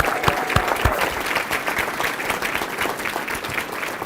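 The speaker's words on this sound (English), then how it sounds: "A huge thank you and a round of applause for Molly." A large crowd at a county address gives a sustained round of applause, thick and even clapping that holds at a steady level throughout without talk over it.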